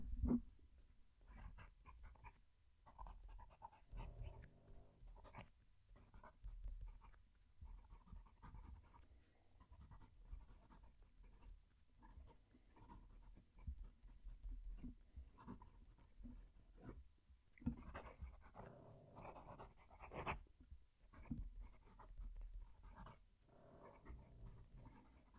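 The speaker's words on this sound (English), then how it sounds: "I'm going to move the mic down to the paper so you can hear the pen writing" A TWSBI Diamond 580 fountain pen scratches and drags across paper in close, faint, irregular strokes, with soft pauses between bursts of writing.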